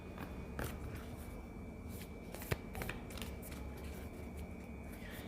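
Lovers Oracle cards are shuffled in quiet, soft, repeated riffles and slides throughout, with one sharper snap midway. No one speaks.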